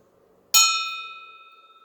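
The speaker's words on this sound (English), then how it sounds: "I will ding that bell because that is what I'm supposed to do." A small bell is struck once during a Goddess worship service, giving a sharp metallic ding that rings on with a clear, slowly fading tone, heard alone and close.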